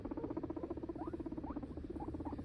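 A pet guinea pig purrs close up in a steady, rapid, buzzing vibration that lasts throughout, with a few faint chirps on top and no talking.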